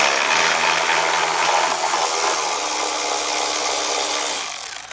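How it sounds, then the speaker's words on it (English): A ratchet works steadily on the airbox lid bolts of a Ford Bronco, a dense close clicking that runs for several seconds before tapering off, with no talking. "We're going to remove the 4 bolts that hold the airbox lid onto the airbox"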